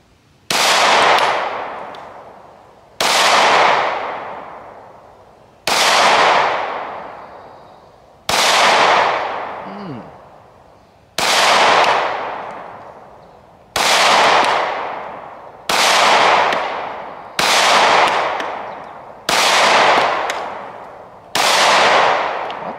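Ten sharp, loud impacts from a small Stoeger STR-9 pistol firing at a target over a table, evenly spaced about two seconds apart. Each crack rings out and decays with a long echo, and no one speaks.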